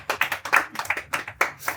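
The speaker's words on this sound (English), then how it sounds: "Please clap for me." Sparse, uneven clapping from a small audience at a Broadway singer's talk-show appearance, a handful of separate hand claps spread over a brief moment, close and fairly light.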